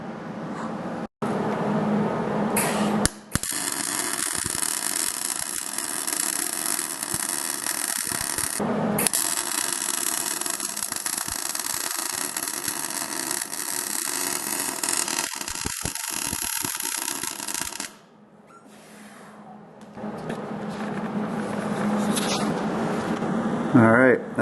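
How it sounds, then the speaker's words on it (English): Steady crackling arc of a welder fusing a car differential, continuous and close for long stretches with brief breaks as the bead stops and restarts. "So I'm going to go ahead and get that all welded in."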